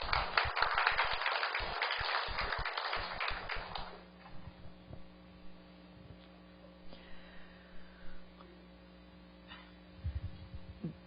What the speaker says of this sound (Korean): 한번 나오실 때 큰 박수로 환영하겠습니다